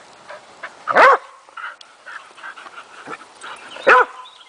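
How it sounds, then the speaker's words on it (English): A dog barks twice, close and loud, with a few seconds between, and softer whimpering yips in the gaps. "Nobody wants to hear you barking this early."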